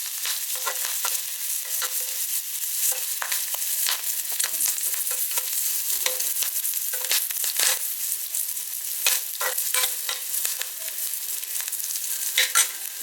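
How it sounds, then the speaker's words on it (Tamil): Green chilli, onion and curry leaves frying in hot oil, a steady close sizzle with crackling pops and occasional stirring scrapes throughout, no voices. "இப்போ இதில் வந்து ஒரு பச்சை மிளகாய், வெங்காயம், கருவேப்பிலை இதில் போட்டுக்கிறோம்."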